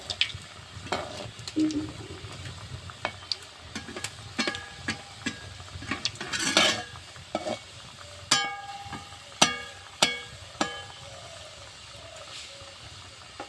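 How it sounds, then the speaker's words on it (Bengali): Steady hiss of pitha cakes frying in hot oil with scattered clinks and scrapes of a utensil against a pan, close and fairly quiet. "এবারে আমি পিঠেগুলো এক এক করে তেলের মধ্যে ছেড়ে দিব, ভেজে নেব"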